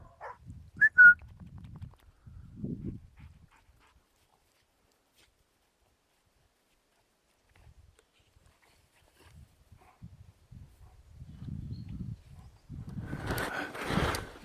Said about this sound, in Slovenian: Kada tako laja iz veselja.